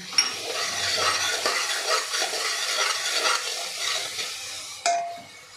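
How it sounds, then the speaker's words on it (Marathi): Chopped onion sautéing with salt in a pan for a chicken curry: a steady loud sizzle with spoon stirring and scraping against the pan throughout, and a sharp metallic knock near the end. "तर कांदा आपल्याला हलकासा ट्रान्सपरंट होईपर्यंत परतून घ्यायचा आहे"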